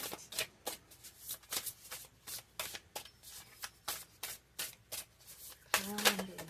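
Tarot cards being shuffled by hand in a quick, repeated riffle of crisp papery bursts, close and steady, with a brief voiced sound near the end.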